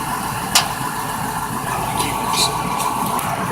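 A 2001 Ford Expedition idles steadily just after a cold start, a constant low engine drone with a faint hum and a few brief clicks and ticks over it.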